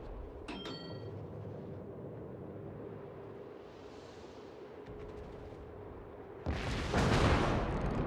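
Naval gunfire from the French battleship Richelieu in World of Warships: a steady low rumble of battle ambience, then a loud, broadband blast of main-battery guns erupting near the end and holding for over a second.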